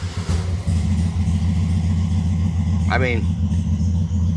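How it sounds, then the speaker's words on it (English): A 1960s Volkswagen air-cooled engine in a Ford Model T kit car, fired up from cold and idling with a steady low drone throughout, someone speaking briefly over it and a short whining sweep near the middle. "fire it up, cold start, hot start."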